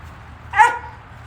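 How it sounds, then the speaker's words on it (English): A puppy inside a box lets out one short, high-pitched bark, close and slightly muffled, over a low background hum. "Don't be high-pitched barking inside a box."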